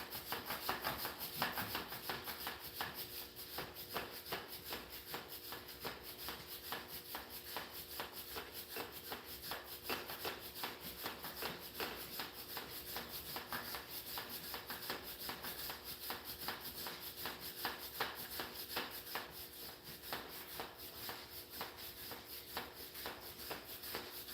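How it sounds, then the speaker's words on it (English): A grunge brush scrubs the chain area of a Suzuki DRZ470 motorcycle, a continuous rapid scratchy rubbing that keeps an even, fairly quiet level throughout, with no voices. "So now I'm scrubbing with the grunge brush from the top."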